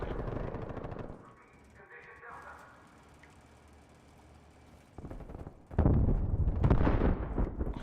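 Sentry turret gunfire in the Black Ops Cold War video game, bursts of rapid shots at the start and a louder, denser volley near the end, with a game voice announcement in between.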